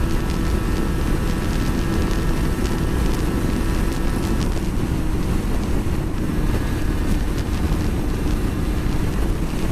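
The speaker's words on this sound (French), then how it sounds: "je vous dis, franchement ça souffle bien." Strong headwind buffeting the microphone while riding a Yamaha TDR 125 motorcycle, a loud, steady roar of wind rush over the engine drone that continues throughout with no pause.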